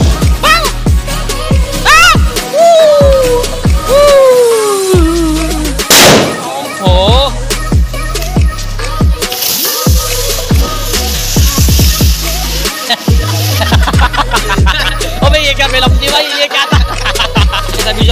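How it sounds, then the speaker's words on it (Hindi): Diwali firecrackers bursting during a village celebration, a busy stream of sharp pops and bangs with some whistling rockets over continuous background noise and occasional voices. "पटाखे फोड़ रहे हैं, क्योंकि पटाखे फोड़ने में बड़ा मजा आता है"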